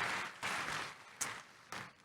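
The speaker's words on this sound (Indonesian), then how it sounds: "Kasih tepuk tangan yang meriah untuk Tuhan Yesus." A church congregation applauds during a sermon, a short burst of scattered, fairly faint clapping with a few sharper claps toward the end and no voices over it.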